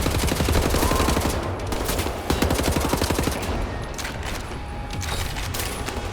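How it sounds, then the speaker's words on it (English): Shotgun gunfire in a video game comes as a dense barrage of loud, rapid, repeated shots with booming reports that continue throughout. "Ooh, shotguns. Nice. Shotguns are really good in this game."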